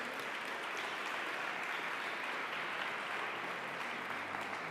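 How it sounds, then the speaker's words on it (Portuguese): A church congregation claps steadily in dense, continuous applause at a moderate distance, an even wash of many hands with no talking over it. "aplauda o Senhor Jesus."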